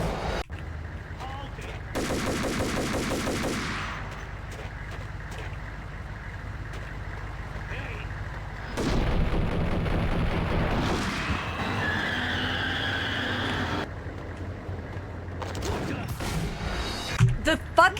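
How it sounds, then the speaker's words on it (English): Shotgun blasts and rapid gunfire ring out in the video game Max Payne, several loud reports and bursts over a constant background drone, with a voice talking at times. "The fucking shotguns again, dude."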